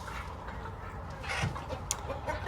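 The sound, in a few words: roosters clucking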